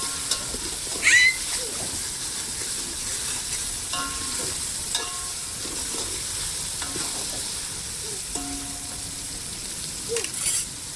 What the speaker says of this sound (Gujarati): આપણે ડુંગળી એડ કરી દીધી છે. થોડી વાર મસાલો પાકવા દઈશું.